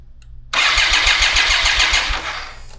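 A BMW K75RT motorcycle, revived after sitting nine years with idle problems, cranks and fires up abruptly into a loud, close, steady engine roar with a pulsing low throb, then eases slightly toward idle; no talk.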